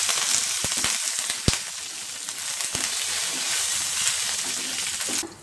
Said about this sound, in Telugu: పచ్చిమిరపకాయ ముక్కలు, ఇంగువ వేసి వేయించుకోవాలి.